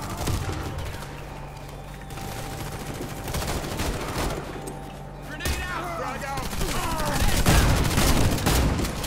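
Shotgun and other gunfire in the video game Warface, a dense fusillade of repeated blasts through most of the stretch, loud and close, with someone talking over it.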